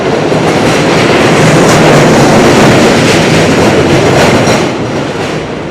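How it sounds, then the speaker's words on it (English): A New York City W subway train rumbling loudly on an elevated track overhead in Queens, with a continuous roar and clatter of wheels that fades slightly toward the end. "Another W train going overhead."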